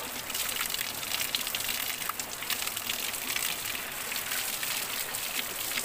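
Cold mountain spring water flowing in a river setting in Cumba, Batangas City, Philippines, a soft, steady gushing trickle that continues evenly throughout at a moderate, fairly distant level.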